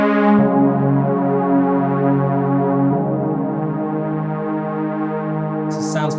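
A Pro Tools Synth Cell synthesizer preset sustains a rich, harmonically dense pad with a steady low drone, shifting slightly midway, alone with no talk and a brief bright accent near the end.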